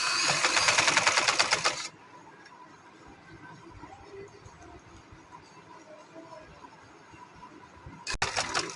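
A sewing machine stitches trouser fabric in a rapid burst of about two seconds, then goes quiet before another brief burst starts at the very end.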